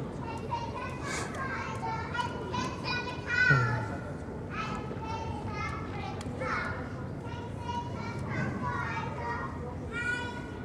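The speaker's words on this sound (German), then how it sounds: "Ich habe immer die Kinder schreien hört, weiß ich, dass sie noch leben" Children shout and play outdoors in the cold at a port during a ship sail-away event, their voices overlapping in bursts at moderate distance, with a steady low background rumble.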